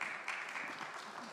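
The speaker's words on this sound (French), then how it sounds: "vous avez raison, applaudissez, c'est juste." An audience at the Parlons Recherche 2025 research event in Paris gives a steady wash of applause, moderately loud and sustained without a break.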